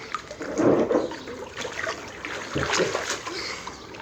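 Swimming kicks churn pool water, with splashing surges around the start and again near the end, close and moderately loud over a steady watery wash.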